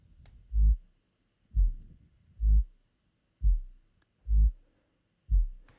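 Deep synthesized sub bass in a minimal techno track, pulsing in six evenly spaced low thumps, each swelling and cutting off, with near silence between them.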